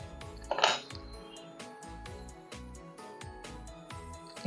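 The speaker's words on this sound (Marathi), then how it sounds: "हा जो काटा चमचा असतो त्याच्याने इथे असं याला डिझाईन करायचं." A fork presses a design into sweet tilgul karanji dough, giving soft, close metallic taps and light scraping clinks in an irregular rhythm, with one brighter clink near the start.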